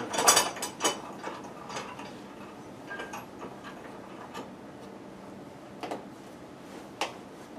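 A homemade press on a jig is brought down over plastic and a wooden block, giving soft mechanical clicks and ticks, a quick cluster at first, then sparse louder snaps later, all faint and close.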